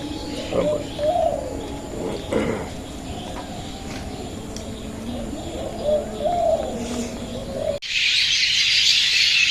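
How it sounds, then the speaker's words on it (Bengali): Birds coo and chirp in the village trees at dusk, with a person talking over them, before a burst of harsh hissing noise near the end. "প্রায় সন্ধ্যায় আসছে পাখিগুলো গাছের মধ্যে আছে"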